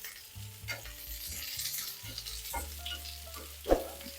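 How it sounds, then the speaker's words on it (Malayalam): Medium onions and green chilies sauté in a pan with a soft, continuous sizzle and occasional stirring scrapes, heard alone without talk, while low tonal background sounds run underneath. "ഇതൊന്ന് വഴന്ന് വന്നോട്ടെ, ചെറുതായിട്ടൊന്ന് വഴന്നാൽ മതി"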